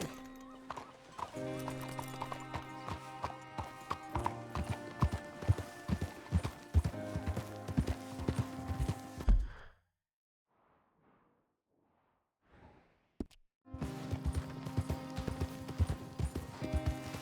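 Horse hooves galloping in Red Dead Redemption 2, a steady rapid clip-clop over a game score, then the hoofbeats cut out into near silence for a few seconds before resuming at full pace.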